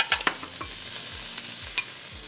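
Onions caramelizing with a little sugar on a grill, a soft steady sizzle under a few sharp scraping and tapping strokes of a spatula, no talking.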